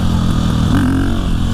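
Suzuki DRZ400 supermoto motorcycle running close and loud, a short burst of rough, steady engine rumble while being ridden.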